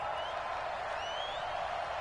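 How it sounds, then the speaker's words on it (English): Video game stadium crowd at an American football game cheers in a steady, dense roar during a tense two-point conversion try, with faint whistling tones rising above the broadband noise and no other sound. "Listen to this crowd now."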